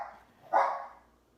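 A dog gives a single bark, moderately close and fairly loud, then the sound fades into quiet.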